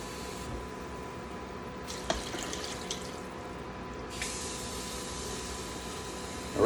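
Water poured into a pot of meat seasoned with soy sauce for pepper steak, a steady hissing pour with a few soft splashes, starting and stopping in short bursts, close by and fairly quiet.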